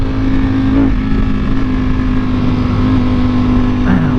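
A 2020 Ducati Panigale V4 motorcycle engine runs steadily during an onboard break-in ride, held under 7,000 RPM, with a constant loud drone and wind noise throughout.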